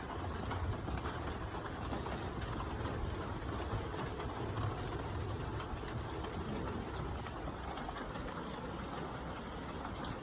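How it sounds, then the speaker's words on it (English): Heavy rain in a thunderstorm hisses steadily in a dense, even wash that stays constant throughout, with a low rumble underneath and no voices. "still there's a lot of rain going on"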